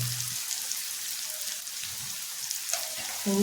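Asafoetida dropped into hot oil gives a steady bright sizzle with light crackling pops, fairly close and continuous, ending with a short clink of utensil against pan.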